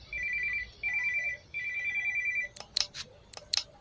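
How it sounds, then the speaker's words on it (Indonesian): A mobile phone rings at home, sounding three clear repeated electronic ringtone bursts followed by a few short chirping tones, fairly faint and alone. "Itu suara HP siapa?"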